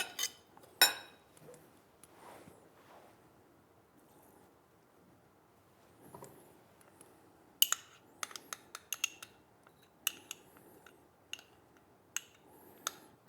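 Ingredients for Korean beef tartare (yukhoe) being mixed in a bowl, with quiet scattered clinks and scrapes of a utensil against the dish, sparse at first and then coming in quicker light taps.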